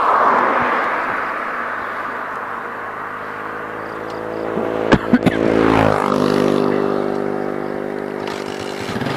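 A vehicle engine cranks and catches after being refuelled on a roadside, a few sharp clicks followed by a rising engine rumble that settles into a steady idle, with traffic and wind noise throughout.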